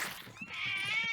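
A cat gives a single drawn-out meow that rises and holds a whiny, wavering tone, fairly close and moderately loud, with faint background noise underneath.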